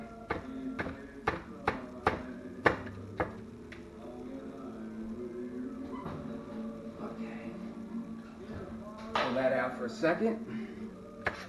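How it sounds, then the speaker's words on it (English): A knife mincing cooked chicken sausage on a cutting board, a run of sharp, evenly spaced taps up close, then fainter scraping and clatter while a person talks briefly. "Take my knife. I'm just gonna mince it up a little bit."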